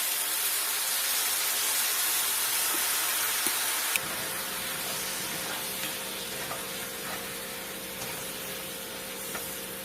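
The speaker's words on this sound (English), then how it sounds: "Add a 1/4 cup of apple juice into the skillet." Apple juice poured into a hot skillet with pork chops gives a steady broadband sizzle and hiss that drops a little in level partway through, with small crackles and no talking.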